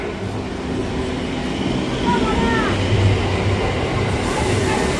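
A local train rumbles at Dum Dum station, low rolling wheel noise with a faint metallic squeal, steady and fairly close throughout.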